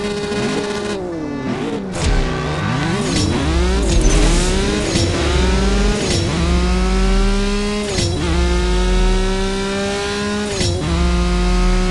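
A sports car engine in CSR Racing 2 revs up loudly and repeatedly, each climb broken by a slow, drawn-out gear shift before the pitch rises again through several gears, close and steady with no talk.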